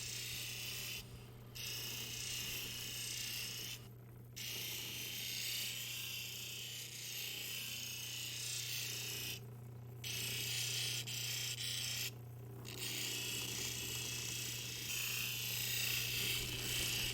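An opal being polished with cerium oxide on a 14,000-grit wheel gives a steady, close motor whir with a low hum under a continuous rubbing, rasping texture, broken by brief pauses where the stone lifts off.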